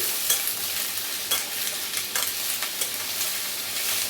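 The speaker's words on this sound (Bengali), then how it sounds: "তারপর ডুমো ডুমো করে কাটা আলু আমরা দিয়ে দেবো" Diced potatoes fry with dried chillies and black cumin in a pan: a loud, constant sizzle with frequent scraping stirs of a spoon, heard up close and without any voices.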